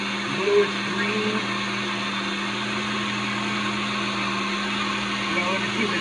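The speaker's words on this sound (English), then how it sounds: "30 seconds on the blender" A blender runs continuously while blending a fruit breakfast shake, with a steady motor whine throughout at close range.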